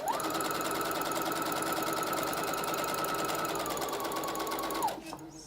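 Close, loud sewing machine running a steady, continuous stitch for about five seconds while sewing a Halloween treat bag, then stopping abruptly.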